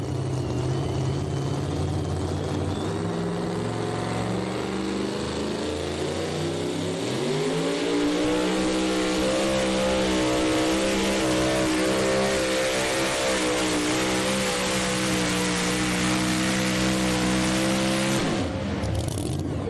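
A Bullseye Chevrolet pulling truck at a county fair truck pull rumbles at a steady idle, then its engine surges and climbs into a loud, sustained roar that holds for several seconds before cutting off near the end.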